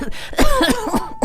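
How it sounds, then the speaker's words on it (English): Coughing from a young boy sick with a winter cold, a few harsh bursts in quick succession with a throaty rasp, close and fairly loud. "dissolved in a fit of coughing"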